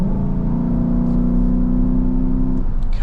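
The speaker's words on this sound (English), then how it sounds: "It's how a V8 should sound" A 2018 Chevrolet Silverado Harley Davidson V8 produces a deep, loud grumble that rises steadily in pitch as it revs, then eases off near the end.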